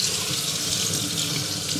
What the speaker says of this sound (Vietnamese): bây giờ mình chỉ cần xả nước cho nó sạch lại thôi